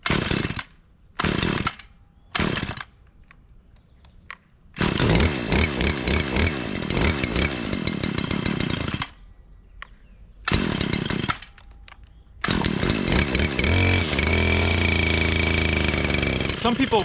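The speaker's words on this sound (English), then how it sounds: "Stihl is the brand of my trimmer. So I'm gonna stick with Stihl." A Stihl string trimmer loaded with bright yellow .095 X-Line starts and runs in bursts, a buzzing high-pitched engine whine with gaps between runs, building to sustained revving at the end.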